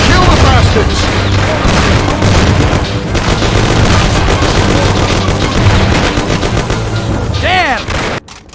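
Shootout gunfire in the game Mafia, dense and loud throughout: rapid overlapping shots and bursts with booming reports. Shouting voices break in over the firing, and a sudden cut to near silence ends it.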